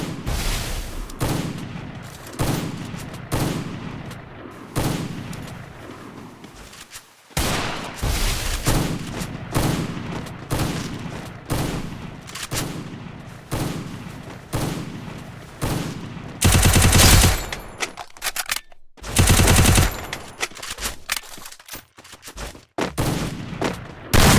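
AWM sniper rifle gunfire in a shooting video game, with repeated sharp shots in steady bursts, some loud and close, others fainter, with no talk over them.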